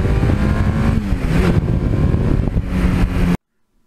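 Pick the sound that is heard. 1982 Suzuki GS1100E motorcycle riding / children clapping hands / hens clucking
1982 Suzuki GS1100E motorcycle riding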